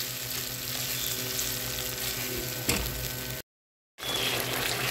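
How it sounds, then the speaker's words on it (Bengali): Mustard and poppy seed paste frying in hot oil for a pointed gourd dish, producing a dense, even sizzle with one brief stirring scrape, close up and without voices, cut by a short moment of silence. "ভালো করে একটু কষিয়ে নিব তেলের মধ্যে সরিষা এবং পোস্তটা"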